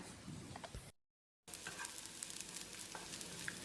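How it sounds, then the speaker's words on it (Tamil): Steady sizzling of onions frying in hot oil, a dense crackling hiss that cuts out briefly to silence before resuming. "இந்த வெங்காயம் நல்லா செவந்து வர்ற அளவுக்கு வதங்கணும்."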